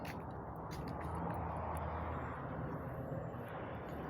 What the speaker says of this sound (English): there's the jet that's just on the other side of the clouds, thundering over